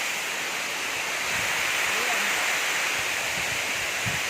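Pradhanpat waterfall in Deogarh district roars as a steady, loud wash of rushing water throughout, with faint voices underneath.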